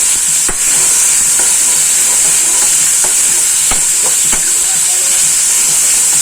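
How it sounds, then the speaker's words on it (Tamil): Onion, tomato, curry leaves and mint sauté in hot oil for a mutton brisket and radish curry, giving a loud, constant close sizzle and hiss with a few sharp clicks from the stirring spoon, and no talking. "நான் வெங்காயம் போட்டுறேன் தக்காளி போட்டுறேன் கருவேப்பிலை புதினா எல்லாம் போட்டாச்சு இது நல்லா வதக்கிடுவோம்"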